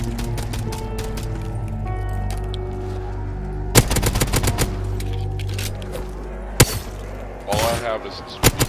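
Pistol gunfire in a Call of Duty Zombies game, a few sharp isolated shots cracking out over a busy game soundtrack of music and effects, with a burst of talk in between.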